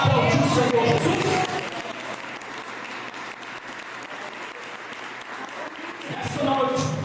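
A church congregation breaks into loud applause at an evening worship service, the clapping strong at first, easing to a steady wash, then swelling again near the end, with voices mixed into the crowd noise.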